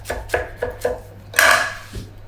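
A knife slices through rolled-up parsley on a chopping board in four crisp, evenly spaced close cuts, followed by a longer scraping stroke and a final soft tap.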